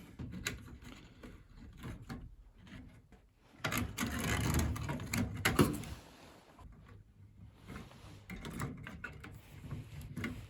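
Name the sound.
removing heating element from Beko tumble dryer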